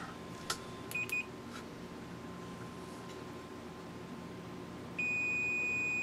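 A multimeter on continuity test against a shorted transistor in an Onkyo TX-SR502 receiver gives brief chirps early on, then a steady, unbroken high beep over a quiet room hiss.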